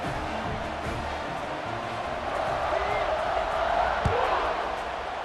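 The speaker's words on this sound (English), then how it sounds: "this crowd is buzzing after that last score" A stadium crowd in the EA Sports College Football video game keeps up a steady, dense roar that swells slightly midway, with a light thump near the end and no clear talk.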